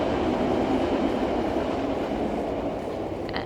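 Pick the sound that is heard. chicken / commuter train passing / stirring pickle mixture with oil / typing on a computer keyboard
commuter train passing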